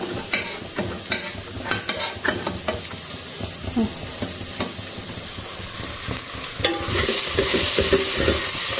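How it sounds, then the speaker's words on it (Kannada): Food frying in a pan for methi dal, close sizzling broken by a series of sharp spatula scrapes and knocks, then a louder, fuller hiss of frying toward the end. "ಇದು ಒಂದು ಸ್ವಲ್ಪ ಫ್ರೈ ಮಾಡಿಬಿಡೋಣ"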